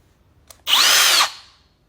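A handheld power drill gives one short burst, a close, loud whine that spins up, holds for about half a second and winds down, after a faint click.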